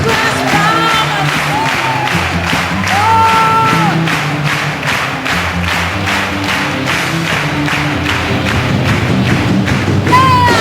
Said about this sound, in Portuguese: Segura as palmas!